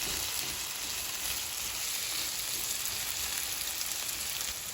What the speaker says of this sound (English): we're going to go ahead and cook our potatoes until they're nice and they start getting crispy